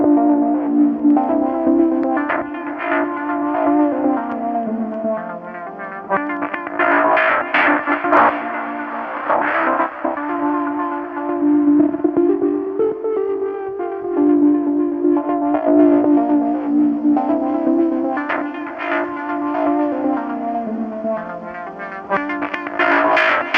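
A Moog Labyrinth synth sequence run through the Air Flavor Pro effect on an MPC plays a looping, pulsing melodic pattern with distorted, echoing tones, sustained and loud without speech.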